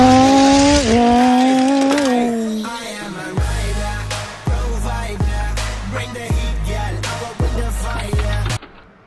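A purple Mustang street racing a Skyline in a game, with loud engine revving that rises and falls, then repeated sharp tire squeals and skids pulsing roughly every second near the end.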